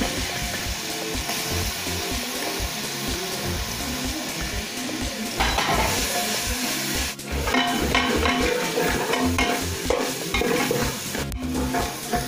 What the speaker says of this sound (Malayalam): നന്നായിട്ട് അടി കൂട്ടി ഇളക്കി കൊടുക്കുക ഇഞ്ചി മൂത്തു ഇനി നമുക്ക് വെളുത്തുള്ളി പേസ്റ്റ് ചേർക്കാം